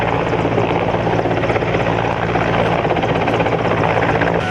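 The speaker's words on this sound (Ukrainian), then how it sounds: "Вертоліт" A helicopter flies overhead during an emergency services training exercise involving a search for people trapped under a collapsed building, its loud, steady rotor thrum and engine drone continuing evenly throughout.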